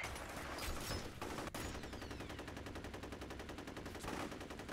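Gunfire in the F.E.A.R. video game: rapid automatic weapon bursts rattle continuously at high density, loud and close, with a few heavier shots layered over the stream of fire.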